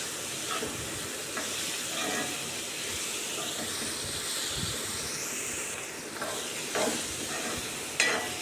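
Green chili sautéing in a hot pan for a pepper chicken curry, giving a steady close sizzle and hiss with occasional scraping stirs, without talk.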